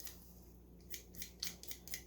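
Potatoes are peeled by hand, a series of quick, faint scraping strokes at an uneven rhythm over a low steady hum, close and without talk.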